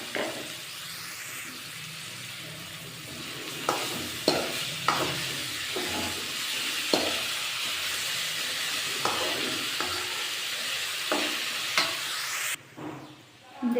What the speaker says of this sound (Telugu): కాకరకాయలు కూడా తాలింపులో వేసి వేపుకోవాలి.